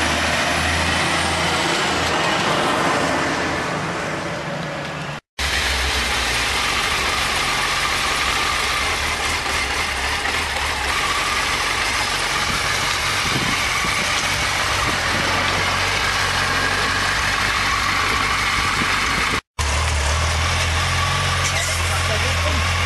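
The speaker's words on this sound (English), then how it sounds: "here's the car with the motorbike" A car carrying a motorbike idles nearby during a hitchhiking trip, its steady low engine rumble running throughout under voices and street noise, with two brief dropouts.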